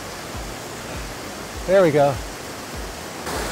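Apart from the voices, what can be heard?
small waterfall on a creek at Grover Hot Springs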